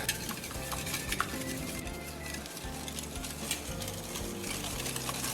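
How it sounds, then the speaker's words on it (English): Whisking eggs and sugar together in a bowl for a carrot cake loaf, a steady busy scraping and clinking of the whisk against the bowl with no voices. "Cream the sugar and the egg well"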